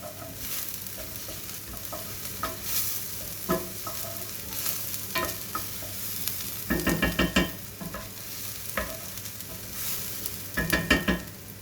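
Chicken pieces browning in a hot pan, with a steady sizzle and frying crackle under repeated stirring and scraping, clusters of louder clatter as the pieces are moved around, close and alone with no talk.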